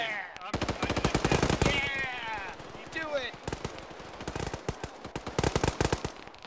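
Bursts of rapid automatic gunfire from the Arma video game, sharp repeated cracks in clusters across the whole stretch, with radio-style voices talking between volleys.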